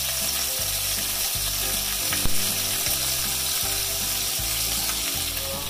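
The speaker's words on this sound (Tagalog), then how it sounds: "Sa pan fry din natin hanggang maging golden brown." Chicken pieces for a curry sizzling loudly in a pan as they fry to golden brown, a steady close crackle with faint rhythmic scraping or stirring underneath and no talking.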